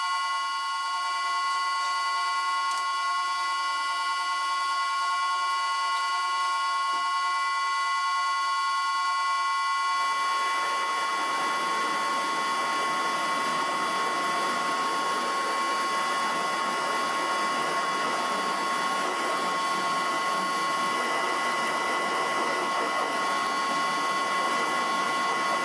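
An old Karger lathe runs at 300 RPM with a steady mechanical whine and strong tonal hum. Partway through, a broader, rougher grinding noise joins and continues to the end, close and sustained.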